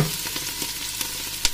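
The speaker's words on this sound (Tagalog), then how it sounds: "Nag-brown na yung bawang, So, ilagay ko na tong" Browned garlic sizzles in a pan as beef is added, making a steady hot frying hiss broken by a few sharp stirring clicks and pops, close and fairly loud.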